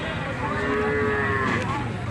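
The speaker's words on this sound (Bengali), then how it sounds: "এটা তো ষাড় গরু" A fighting bull in Sylhet, Bangladesh, moos long and low, close and loud, one steady call lasting a couple of seconds with no talking.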